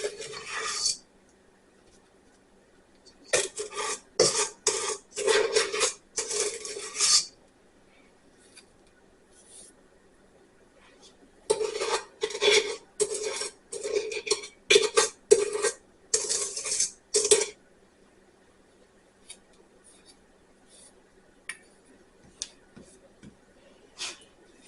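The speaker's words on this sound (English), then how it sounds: "You can use the back of a spoon to spread it out, but I find the easiest way is to get an offset spatula" An offset spatula scraping and smearing cinnamon butter across rolled-out sourdough dough in bursts of quick rasping strokes, two clusters of spreading separated by quiet pauses.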